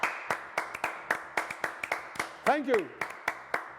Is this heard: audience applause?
yes